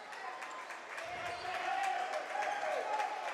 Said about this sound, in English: And Moore Gymnasium's getting a little loud